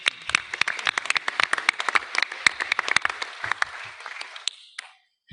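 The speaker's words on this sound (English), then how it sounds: "I would like to give her a big applause" An audience applauds steadily for several seconds, dense overlapping claps that thin out and stop near the end.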